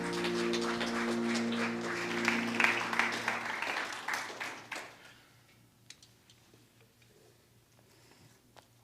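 Audience applause after a band's performance at a church service, dense clapping over fading music for about five seconds, then thinning to scattered claps and quiet.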